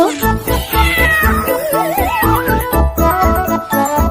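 A cartoon cat meows in a Bengali nursery rhyme, repeated sliding meows over bouncy music and sung vocals.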